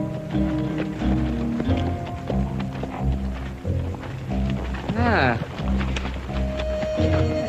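Horse hooves clip-clop under a busy, loud mix of music and background sound in a western TV drama scene, with a short vocal exclamation and a brief whinny-like rise partway through.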